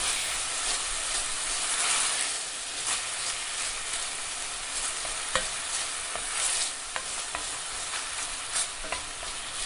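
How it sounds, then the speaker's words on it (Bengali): Yogurt-marinated chicken for dhaba-style handi chicken is sautéed in a pan, giving a continuous loud sizzle and hiss with repeated scraping stirs and occasional clicks, with no voices. "5 থেকে 7 মিনিট একটু কষিয়ে নিচ্ছিলাম"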